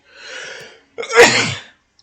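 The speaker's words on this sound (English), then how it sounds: "I'm going to sneeze." A single sharp sneeze, preceded by a breathy inhale, loud and close to the microphone.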